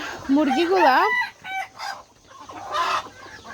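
A broody hen set on eggs clucks loudly up close in a rising, warbling burst. A few shorter clucks and squawks follow at intervals.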